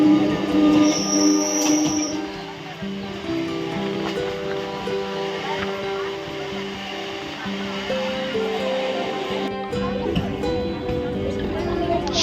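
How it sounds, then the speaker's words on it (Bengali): Commuter train heading toward Sealdah during office hours, carrying a steady loud rumble of wheels on rail with layered squeals and clatter throughout, growing rougher near the end, with voices faintly under it. "ট্রেনের স্পিড ভালোই ছিল, শিয়ালদার দিকে যাচ্ছিলাম।"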